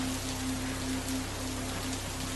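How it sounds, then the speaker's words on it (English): Steady soaking downpour of rain falling on surfaces, a dense continuous hiss with a faint low hum running underneath, no voices. "heedless of the soaking downpour"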